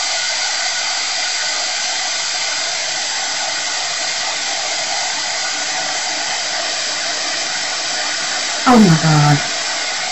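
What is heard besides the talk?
heat tool heating embossing powder for resin box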